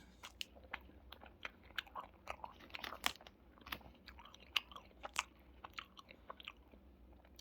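Someone chews and bites into a cream-filled pastry with a soft, limp crust and milk cream, giving close, repeated moist crunching and smacking bites in a steady irregular rhythm with no talking.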